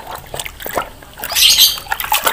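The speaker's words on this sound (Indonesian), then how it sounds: "Wow, ada suara burung" Bright, high-pitched chirps and squawks, fairly close, with short scratchy bursts and some watery splashing underneath.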